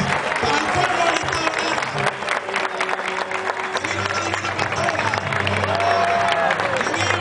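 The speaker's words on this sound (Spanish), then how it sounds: "Un aplauso para la Divina Pastora, para sus senadores," Outdoor crowd in Barquisimeto, Lara, applauds and cheers for the Divina Pastora procession, a noisy blend of clapping, shouting voices and low rumble, loud and continuous.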